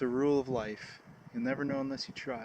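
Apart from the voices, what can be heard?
No everyday noise stands out behind the speech.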